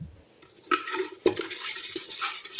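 River fish, including tilapia, are stirred by hand in a vessel to clean them, giving wet sloshing and scraping with clinks against the container in irregular bursts, close and fairly loud.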